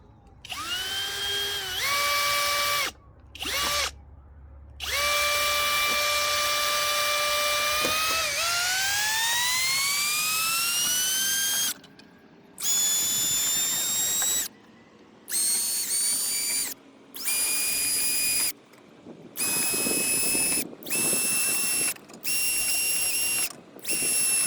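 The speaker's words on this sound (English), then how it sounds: "I'm gonna speed up the camera as I drill these holes" An electric drill whines loudly in repeated bursts, its pitch rising as it spins up, with short pauses between each hole.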